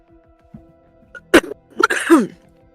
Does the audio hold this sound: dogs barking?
no